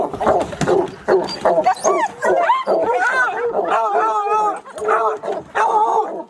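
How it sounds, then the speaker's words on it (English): A bear hound barks, yips and whimpers in rapid, excited bursts, loud and close, continuing almost without pause. "we're going to turn one of the dogs out and see if they can start a track"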